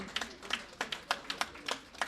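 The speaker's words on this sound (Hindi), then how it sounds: "इंजीनियर कलीम अहमद साहब के लिए बहुत जोरदार तालियां बजाइए।" Applause at a felicitation ceremony in Aurangabad honouring an engineer, heard as a string of distinct hand claps at a steady, fairly quick rhythm, moderately close and not very loud, with no talk over it.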